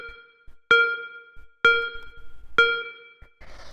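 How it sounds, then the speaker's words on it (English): Synth beep at 128 BPM in a cosmic techno track, a single steady note struck on beats 2 and 4: three bright, evenly spaced tonal hits with ringing overtones, alone and loud, followed by a short burst of noise at the end. "The first sound here is this beep, which sounds like this."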